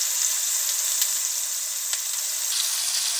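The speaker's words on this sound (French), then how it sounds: "on fait revenir les oignons" Onions frying in a pan for meatballs in tomato sauce, a steady close sizzle with bright crackling hiss throughout and a few faint clicks, no talk.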